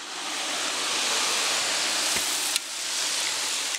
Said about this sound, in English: Giovanni Rojas is making chicharrones, chunks of bacon cooked in lard with garlic, salt, and a few cups of water